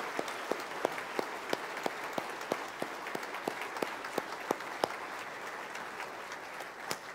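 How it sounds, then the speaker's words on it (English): Congregation applause at a church dedication service, a soft, distant bed of clapping with sharper individual claps standing out at a steady rhythm throughout. "So I think we need to give Brock a huge round of applause"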